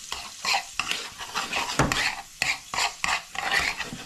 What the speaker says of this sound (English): Give that all a good stirring round